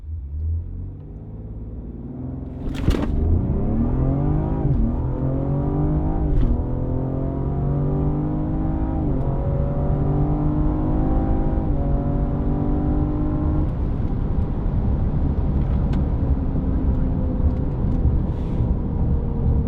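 A 2020 Ford Explorer with a methanol injection setup accelerates hard along a stretch of road, its engine rising in loud, steady pitch sweeps through several gear shifts, heard from inside the cabin.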